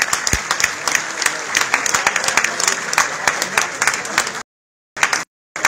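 Strong applause from a crowd at a 115th-anniversary celebration in Punta del Este, dense and sustained clapping that cuts off abruptly near the end, with only brief bursts afterward.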